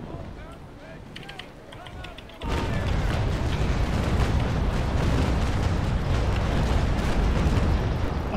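A naval battle game's ship cannons fire a full broadside, erupting after a couple of seconds into a sustained loud rumble of booming blasts, with a voice talking over it.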